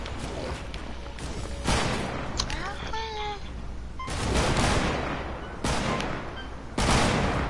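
Rapid bursts of video game gunfire and sniper shots crackle in repeated loud volleys, with quieter gaps between them where a player's voice is heard.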